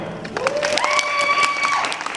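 Panel audience at an anime convention Q&A applauding, a short burst of crowd clapping with a few sustained tonal whistles or cheers riding over it.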